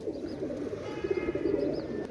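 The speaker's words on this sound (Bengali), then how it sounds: "এই এক জোড়া কবুতর দেখেন, এটা হচ্ছে চীনা কবুতর ভাই" A pair of Chinese pigeons coos softly and continuously nearby, with faint chirps from other birds in the background.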